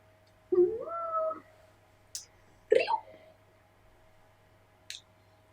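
A cat gives a drawn-out meow, then a shorter chirpy meow a moment later, close and clear, with a few faint clicks in between.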